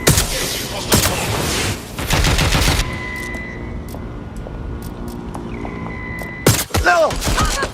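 Rapid automatic gunfire bursts loudly in the video game Watch Dogs Legion, with sharp shots at the start and again near the end, separated by a quieter stretch of engine hum and electronic tones.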